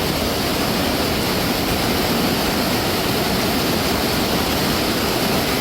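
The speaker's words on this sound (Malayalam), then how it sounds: "വെള്ളം അങ്ങനെ ഓരോ സെക്കൻഡിലും വെള്ളം കൂടിക്കൊണ്ടിരിക്കുകയാണ്" Floodwater surges and rushes past as an overflowing waterway rises, a dense, steady roar that fills the whole scene from start to finish, loud and close, with no voices heard over it.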